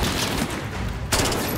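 Gunfire from the video game Call of Duty Modern Warfare (2019), a dense, continuous broadband rattle of shots that runs throughout, swelling into a sharper burst about two-thirds through, with no voices over it.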